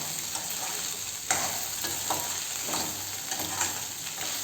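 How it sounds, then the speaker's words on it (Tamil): Okra and egg sizzling in a frying pan while being stirred, a steady hiss broken by repeated scraping strokes of the spoon, close and alone with no talking. "இப்போ இது முட்டை வெண்டைக்காய் இது எல்லாமே நல்லா வதங்கணுங்க"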